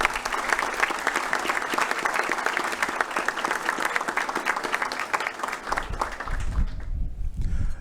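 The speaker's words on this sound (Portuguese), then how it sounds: "Uma salva de palmas a todas as personalidades presentes" Applause from the audience at a formal civic ceremony marking Portugal Day, steady and dense for most of the clip before thinning toward the end.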